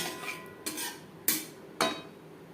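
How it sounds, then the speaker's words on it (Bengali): Boiled potatoes and paneer in a thick spiced vegetarian curry are stirred in a pan over a medium gas flame: four distinct, close scraping strokes in an even rhythm. "গ্যাসের ফ্লেমটাকে মিডিয়ামে রেখে তিন চার মিনিট নাড়াচাড়া করে দেবো"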